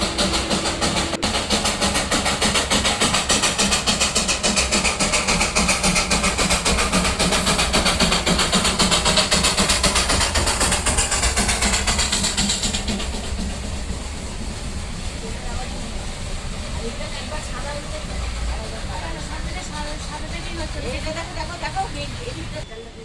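A train passes near a hillside inn in Darjeeling. Its loud rumbling clatter runs for about thirteen seconds, then fades to a quieter rolling drone with faint voices in the background.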